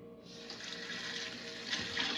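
Tap water runs steadily into a sink as fish is washed before cooking, with a continuous close splashing hiss and small surges from handling.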